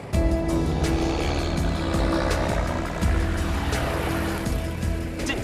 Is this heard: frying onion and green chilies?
no